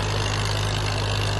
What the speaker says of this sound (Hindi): क्या कमाल ट्रैक्टर है। Massey Ferguson 240 model 1982।